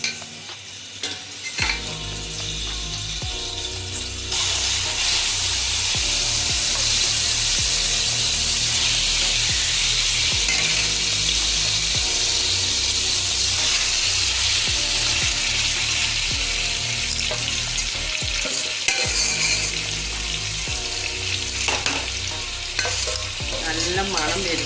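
Chicken pieces go into hot oil for Hyderabadi chicken dum biryani, raising a loud, sustained sizzle with steady spattering and stirring noises that carries on without pause for over twenty seconds.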